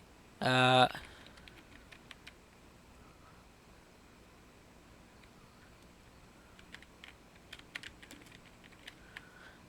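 Typing on a computer keyboard while writing HTML code, with faint scattered key clicks late on, preceded by a brief loud burst of another sound near the start.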